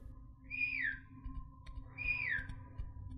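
A player character whistles in the co-op horror game Inside the Backrooms, giving two clear rising-then-falling whistle phrases about a second apart over a low rumbling background with no talk.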